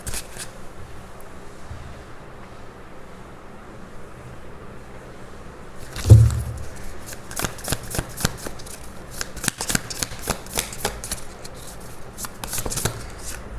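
Tarot cards being shuffled by hand, a quiet riffling that starts with a soft thump and continues as repeated crisp flicks and snaps, close to the microphone against a low background hiss.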